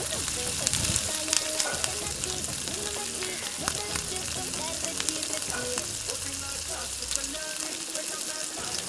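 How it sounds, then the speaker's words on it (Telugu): Chopped tomatoes for chicken pulao fry in a hot pan with a loud, continuous sizzle, while a spoon stirs them with occasional clinks and scrapes. "యాడ్ చేసుకొని కాసేపు అలా కలుపుకొని వేయించుకోవాలి"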